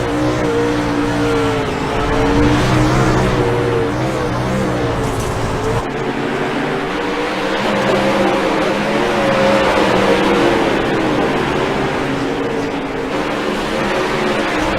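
Race cars roaring around a dirt track with one car flipping upside down, loud continuous engine noise with shifting revs and a sudden change in the mix midway, heard up close for the whole stretch.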